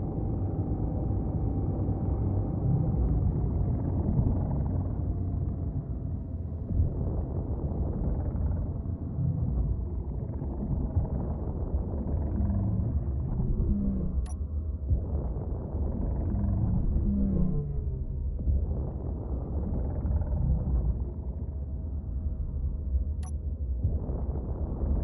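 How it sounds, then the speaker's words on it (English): Meteor storm in the game Space Engineers, a continuous low rumble that stays steady and fairly loud throughout, with a couple of brief sharp high ticks near the middle and end. "Whoa, check that out, another meteor storm."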